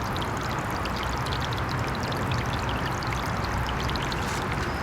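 A 3.5W solar fountain sprays water into a bird bath, making a steady, close splashing patter like pouring water, continuous and even throughout with no voices.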